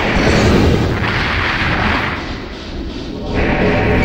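A mech blows up in the Armored Core video game, a loud, sustained rumbling explosion with deep booming low end that dips briefly midway and then swells again, with no voices over it.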